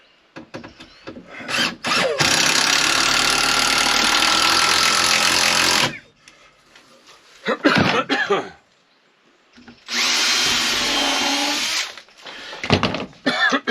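A power drill whirs loudly for about four seconds, stops amid scattered knocks and coughs, then whines again in a shorter burst, close by, while working on a camper.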